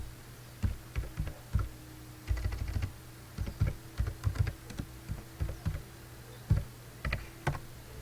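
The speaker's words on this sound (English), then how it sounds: "we are going to look up the code of our group by typing the code" Fingers tap out a code on a computer keyboard, a close series of light, irregular key clicks in short bursts with brief pauses between.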